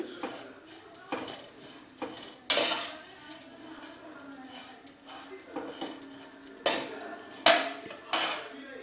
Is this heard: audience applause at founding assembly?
no